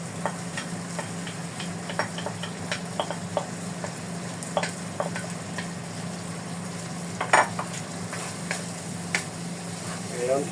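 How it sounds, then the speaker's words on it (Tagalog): Squid sizzling in a frying pan with adobo sauce, a constant crackling fry under scattered clinks and scrapes of a utensil stirring against the pan, with a voice talking now and then. "Ilagay na po natin ang ating pusit."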